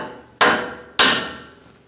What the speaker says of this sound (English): You can use a removal tool or just tap it with a hammer.